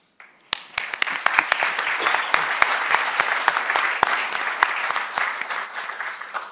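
Audience applause at the Social Entrepreneur of the Year award ceremony, a steady, full round of clapping from a crowd with sharp individual claps standing out, running loud and continuous throughout.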